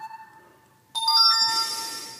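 Phone notification chimes from an Alcatel 7 and a Mi A2. A soft tone fades out, then a brighter multi-note alert sounds abruptly and rings on clearly, fairly loud and close.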